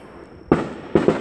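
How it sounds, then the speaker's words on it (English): Fireworks go off in the neighborhood around the Fourth of July: a sharp loud bang after a moment of quiet, then two more close bursts in quick succession, with no talking. "I finally get my own fireworks."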